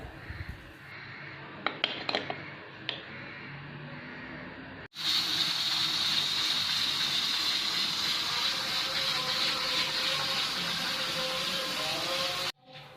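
Water pours into a pot of black chickpeas on the stove, a loud, steady rushing hiss after a few small clinks, continuing for several seconds before cutting off sharply.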